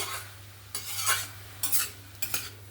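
A utensil scrapes and stirs ash gourd curry with mung dal and fish head in a pan, three distinct bursts of stirring over a soft sizzle and low steady hum.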